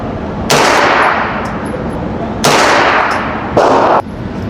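Three loud, sharp gunshots ring out at irregular intervals at a shooting range, each leaving a long fading echo in an open space.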